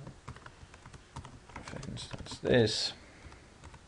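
Clicky computer-keyboard typing, a run of quick keystrokes, close up, with a short spoken phrase partway through.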